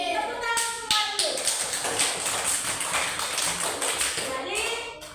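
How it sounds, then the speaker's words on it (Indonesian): A classroom of young children claps together in a primary school lesson, a close burst of quick, uneven clapping with excited kid voices mixed in, fading out after about five seconds. "Tepuk tangan semua dulu."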